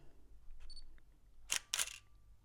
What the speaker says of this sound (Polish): Jeszcze raz zrobię, żebyście usłyszeli dźwięk migawki.